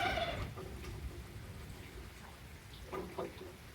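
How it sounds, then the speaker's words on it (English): A turkey gobbles outdoors during a gentle rain with rolling thunder, its short calls coming in a few brief bursts over steady rainfall and low rumbling background noise. "And the turkey gobbles."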